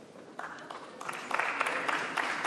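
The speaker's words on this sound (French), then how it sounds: "Des applaudissements timides" Timid applause in a nearly empty parliament chamber, faint and sparse clapping from thinly filled benches, growing slightly denser after the first second with distant room echo.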